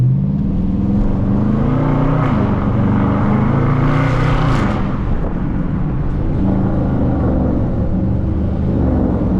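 A Dodge Charger R/T driving through the city with a loud exhaust, a heavy low rumble from inside the car that swells briefly as it accelerates and then holds steady, with no talk.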